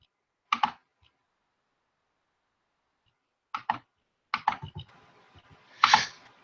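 A computer mouse clicks while marking up a trading chart, giving a few sharp, close clicks separated by silence, then a quick cluster of clicks and a slightly louder click near the end, with no talking.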